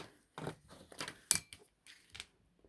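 Scissors snip through paper while a folding tag is cut out, giving a handful of short, sharp crisp cuts spaced irregularly with quiet gaps between them, close up.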